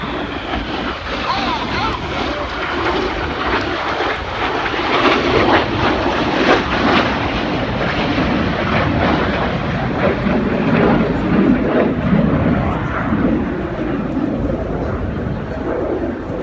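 Red Arrows jet aircraft passing at high speed, a sustained loud roar that swells in the middle and slowly fades, with wind buffeting and a commentator talking over it.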